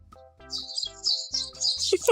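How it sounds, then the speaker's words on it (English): Small birds chirp in short, bright bursts, quick and fairly close, over lower tonal sounds in a quiet setting. "Maybe some birdies."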